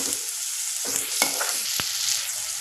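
Cluster bean stir-fry seasoned with salt and chili powder, stirred in a hot pan, with soft sizzling under scattered scrapes and knocks of a spoon against the pan.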